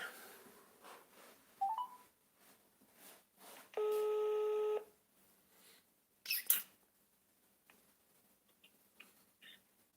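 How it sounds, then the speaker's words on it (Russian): A phone call is placed: sparse clicks and faint keypad beeps, then about a second of steady ringback tone, followed by a sharp clatter and quiet handling noise, with no speech. "Я звоню сестре матери."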